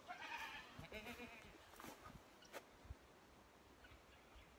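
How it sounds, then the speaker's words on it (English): A goat yelling on a farm, a faint strained bleat at the start followed by scattered knocks and rustles, distant and quiet. "I heard a goat in here yelling."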